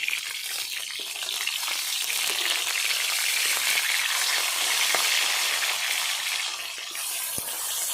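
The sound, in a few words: rupchanda fish frying in oil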